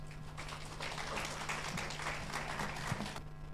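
Scattered clapping from an audience at a public forum on climate change in Kenya's drylands, a few seconds of steady applause that stops abruptly near the end.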